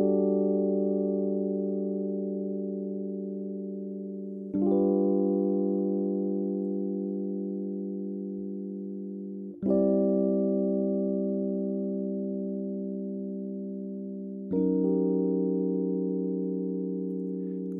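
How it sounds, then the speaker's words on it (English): Clean digital synth chords with no tape emulation, four sustained chords each lasting about five seconds, struck cleanly and decaying slowly, steady and quiet with no other sounds. "If we listen to our digital audio here, our digital chords sound like this"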